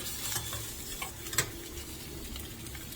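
Eggs frying in a stainless steel pan give a soft continuous sizzle with light scraping and one brief tick partway through, close by and fairly quiet.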